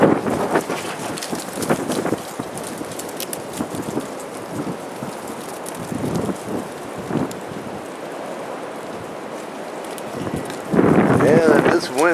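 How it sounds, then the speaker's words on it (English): Strong gusty wind from a high wind warning in Michigan roars and buffets the microphone steadily, with rumbling surges and louder gusts toward the end. "Yeah, this wind's really playing hectic."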